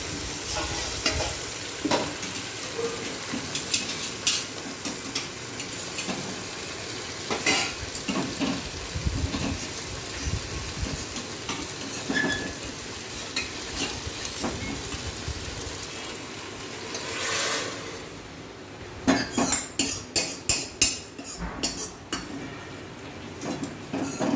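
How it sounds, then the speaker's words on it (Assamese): Chicken curry being stirred in a pan after a splash of hot water, continuous sizzle with repeated scraping and clanking of a spoon against the pot, busier rapid clatter near the end, no voices. "এতিয়া ইয়াতে অকণমান গৰম পানী দি এইখিনি লৰাই মই দি দিম।"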